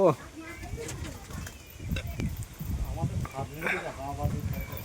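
Roller pigeons, including a big white one, coo in a loft in low, throaty bursts close by, while someone talks over them.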